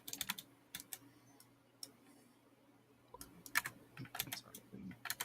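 Computer keyboard keys clacking through an open microphone during an online tabletop role-playing session, quick irregular bursts of faint, close taps with pauses between them, no talk over them.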